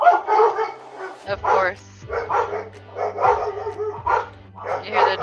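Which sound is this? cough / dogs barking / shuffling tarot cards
dogs barking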